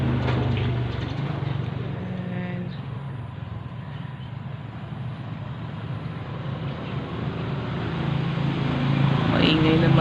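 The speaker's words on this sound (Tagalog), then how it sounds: "Maingay naman yung pagbibideo ko kasi nandyan naman yung mga sasakyan na dumadaan." Passing road traffic makes a steady low broadband rumble throughout, swelling louder toward the end as vehicles go by nearby in an outdoor setting.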